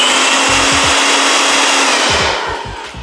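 A Jakmister 600 W, 15,000 RPM air blower vacuum running loud and close with a steady high-pitched whine. It slowly trails off near the end as the motor winds down, with light handling knocks underneath.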